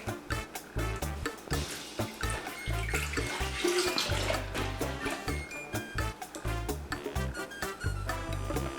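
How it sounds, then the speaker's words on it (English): Milk being poured into a mixing bowl for a Cuban flan de leche (milk custard), a steady liquid pour heard over a strong rhythmic background of music with no speech. "first I'm going to add my milk"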